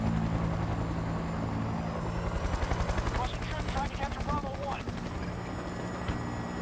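A helicopter flies in a Battlefield 6 game, with a steady rapid rotor chop pulsing throughout, fairly loud and continuous, and faint chirps layered over it while a voice talks nearby.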